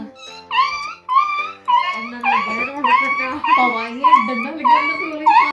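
A person imitates a dog whimpering, a run of about ten high, wavering whines and yelps repeated in quick succession at close range, loud and alone.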